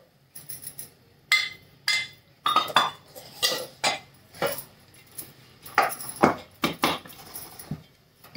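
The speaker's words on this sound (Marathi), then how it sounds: "मिक्स करून घ्यायचं चांगल्याने चमच्याने।" Spoon clinks and scrapes against a bowl while flour is stirred and mixed, in a series of sharp, close, irregular knocks with quiet gaps between them.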